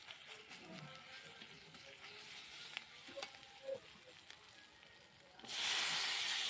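Chopped tomato dropped into a hot pan of frying spices for aloo paneer sets off a sudden, loud, steady sizzle near the end, after a quiet stretch of soft crackling and faint stirring clicks.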